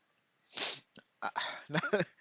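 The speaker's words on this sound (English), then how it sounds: "I've been like sneezing quite a lot" A single sharp sneeze from a man with a cold bursts out near the start, followed by a short sniff and a few quiet breathy vocal sounds, close to the microphone.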